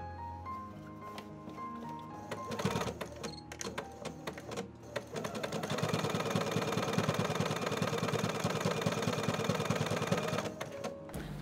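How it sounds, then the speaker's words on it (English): A sewing machine runs an understitch along a blouson facing, a steady mechanical whirr with rapid needle ticking that steps up to full speed partway through and runs on to the end. "Now keep the seam and this facing together and stitch on the facing"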